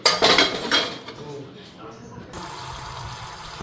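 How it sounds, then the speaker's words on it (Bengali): A brinjal (eggplant) gets washed in a home kitchen: bright clinks of dishes and utensils open the clip, then water splashes and runs in a steady stream, and a voice is heard at the start. "তো ওইদিকে বেগুনটা ধুয়ে নিলাম"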